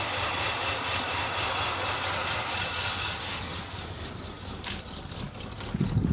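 The engine of a trailer truck named Terry idling steadily, a low rumbling drone that stays close and even, with a faint rattle toward the end.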